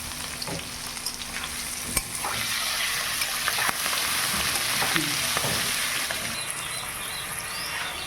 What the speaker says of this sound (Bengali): এবার আমাদের আলু আর পেঁয়াজ কষানো হয়ে গেছে